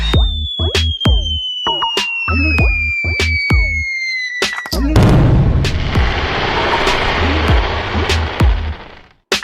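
Diwali firecrackers burst in a rapid series of sharp, loud bangs, some with whistling rising tones, followed by dense crackling explosions and a final pop.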